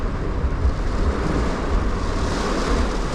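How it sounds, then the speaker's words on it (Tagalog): Strong wind blows during travel in Bicol, a loud continuous roaring rush buffeting the microphone throughout, with no one speaking. "Oh, grabe, ang lakas pa ng hangin."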